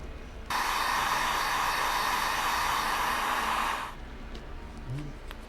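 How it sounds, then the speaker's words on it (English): A heat gun blowing on silicone skin roars with a steady, loud blowing rush for a few seconds, then cuts off abruptly, leaving quiet room noise. "Just with a few minutes from a heat gun on this silicone, we're ready to go."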